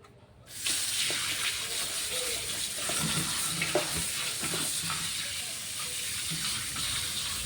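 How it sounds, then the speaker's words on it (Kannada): Running water washing cowpea (alasande) beans, a steady rushing hiss from a tap that starts abruptly and continues with light rattling of beans in a vessel, no voices. "ಇದನ್ನು ಮೊದಲು ಚೆನ್ನಾಗಿ ತೊಳೆಯೋಣ"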